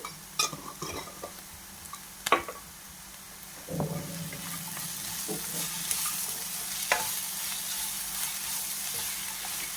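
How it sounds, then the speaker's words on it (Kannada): Turmeric powder goes into an oil-filled pan and is stirred: a few sharp clinks and scrapes open, then a steady close frying sizzle builds and carries on without speech. "ಚಂದ ಫ್ರೈ ಮಾಡಿ."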